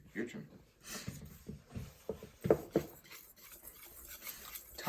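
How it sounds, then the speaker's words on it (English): A tiny whisk clinks and scrapes against a bowl while ingredients are mixed, in quiet irregular strokes under people chatting nearby. "We're gonna tiny whisk it all together."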